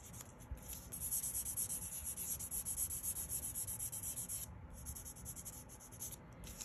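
A pink-sided nail buffer block rubs back and forth across a fingernail during a French manicure, a soft rhythmic scratchy swishing in close, quiet strokes with a brief pause near the end.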